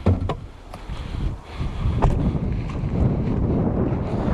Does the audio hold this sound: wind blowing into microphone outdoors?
yes